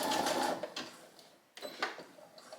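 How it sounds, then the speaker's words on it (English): A sewing machine zigzag-stitches the stretchy waistband of a pair of shorts in short bursts, a quick whirring run, a brief pause, then a second shorter run with some clicking, close and moderately loud. "the reason why we're doing a zigzag is because this is gonna stretch"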